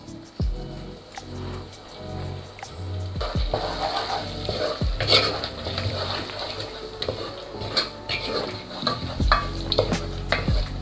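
A jollof rice base seasoned with curry powder, garlic powder, thyme and salt fries in a pot, a steady close sizzle broken by stirring scrapes and clinks of a utensil against the pot.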